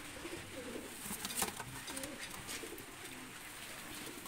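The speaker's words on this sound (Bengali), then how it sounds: "দুইটা কবুতর ছেড়ে দেখাচ্ছি" Soft, low pigeon coos repeat quietly over a faint, steady background hiss, with a brief brighter flutter of noise partway through.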